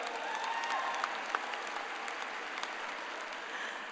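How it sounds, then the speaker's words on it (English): Crowd at the Brighton High School 2023 commencement ceremony giving a round of applause, a dense, steady roar of clapping with a few distinct sharp claps and faint whistles, sustained evenly throughout. "I think that deserves a round of applause for all of you."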